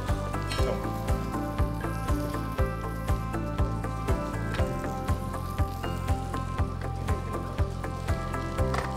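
Food cooks in a pan over moderate, not too high heat at a Balinese culinary event, a constant sizzle with regular soft knocks and clatter repeating about twice per second, no talking.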